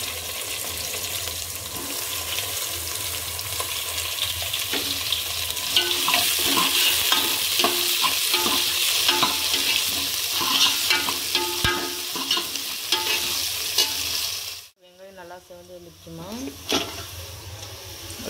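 Onions and a handful of curry leaves fry in hot oil for a village-style fish and bottle gourd curry, giving a loud, steady sizzle with repeated stirring clatter; it drops out briefly near the end, then sizzling returns.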